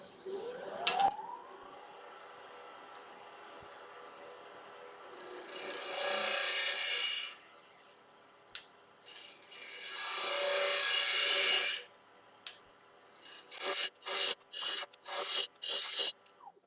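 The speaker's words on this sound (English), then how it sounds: "So again, I'm just going to use my little round nose scraper." A small round nose scraper cutting into wood on a lathe while turning a capsule box, giving broad rasping scrapes in two longer passes and then a run of short, quick strokes, fairly close with quiet gaps between.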